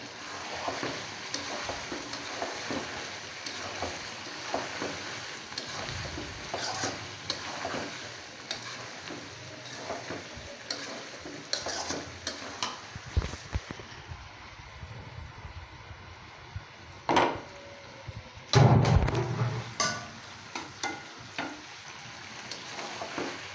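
Chicken curry sizzles in a pan with oil while being stirred, producing steady close frying noise with repeated scraping and clinking strokes and a louder clatter near the end.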